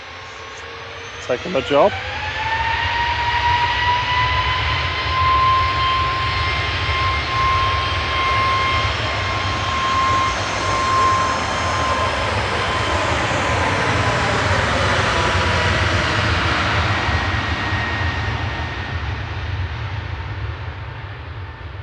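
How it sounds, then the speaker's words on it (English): A Ryanair Boeing 737 MAX 8-200 departs Manchester for Brussels with a loud sustained jet roar and rising engine whine that swells and slowly fades, while a voice talks briefly near the start. "Ryanair off to Brussels adjacent, 737 MAX 8 200 EIIJY, flight 613"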